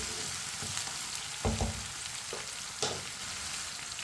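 Chopped tomatoes fry in a pan with a soft, even sizzle, broken by two or three louder knocks and scrapes as they are stirred. The sound is close and quiet, with no voices.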